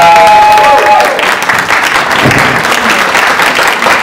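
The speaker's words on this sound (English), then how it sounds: "applause for the actors for coming" Audience applause for the actors at a staged reading of Karen Malpede's play Other Than We, loud sustained clapping from a full room with a faint whistle-like tone early on and murmuring voices underneath.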